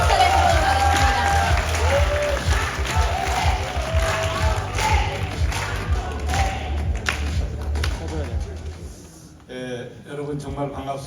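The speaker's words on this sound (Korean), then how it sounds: "우리 두 번째 순서로 멋진 연설해주신 이혜옥 대표님께 힘찬박수 부탁드리겠습니다" Applause and cheering from a crowd at a community autonomy legislation rally honouring a speaker, dense, loud clapping with shouts and voices mixed in, fading near the end as a voice takes over.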